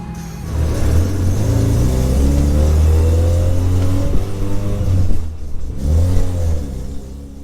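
A rusty, mostly stock 30-year-old Mazda RX-7 FC rotary race car revs hard and climbs through the gears, with brief drops in pitch at each shift before pulling up again, loud and close.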